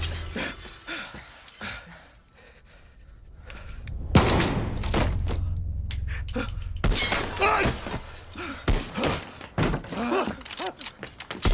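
Gunshots ring out in the video game Far Cry 6, sharp loud cracks and bursts of fire breaking through tense quiet, followed by shattering impacts and clattering sounds.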